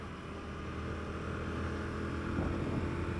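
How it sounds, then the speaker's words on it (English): Royal Enfield Classic 650 twin motorcycle engine while riding, a faint, steady low drone with broad wind-like noise that rises a little near the end, no voices. "for a modern bike it's got a definite bark to it, a bit of a growl"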